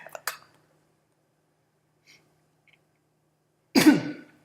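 A single loud, close cough bursts out near the end after quiet, preceded by a couple of faint short throat sounds.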